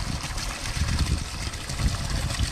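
Water from two return pipes of a DIY pond filter built with a pool and trash can pours steadily into a koi and turtle pond, a continuous close splashing rush with low churning rumble.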